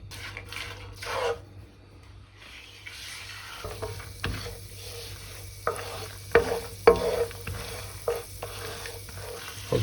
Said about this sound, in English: on a very low heat, we melt the butter. We allow the sage to release the flavor into the butter.